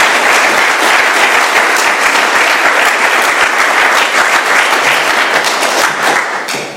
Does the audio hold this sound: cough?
no